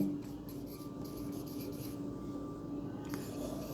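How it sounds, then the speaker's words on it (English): Pen or chalk writing a sentence during a classroom grammar lesson, a soft continuous scratching rub heard close and steady, with faint room hum beneath and no talk. "I like to write another sentence."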